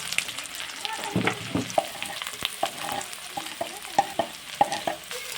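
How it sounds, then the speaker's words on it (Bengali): Chopped onions frying with whole cumin seeds and bay leaf in oil, a soft continuous sizzle broken by frequent scraping stirs and small clicks of a spoon against the pan. "পেঁয়াজগুলোকেও লাল লাল করে একটু ভেজে নেব"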